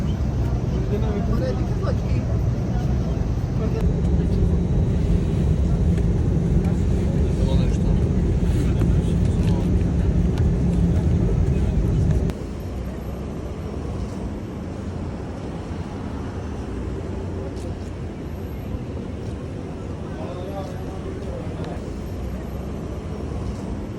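Inside an airliner cabin in flight, a steady low engine drone fills the space, dropping to a somewhat quieter, even hum about halfway through.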